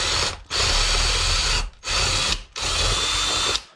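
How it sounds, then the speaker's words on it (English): A power drill whirs loudly in two long bursts separated by short pauses, close up and steady, drilling holes in a roller skate cuff. "next I'm going to go with a slightly larger, maybe twice the size, drill bit."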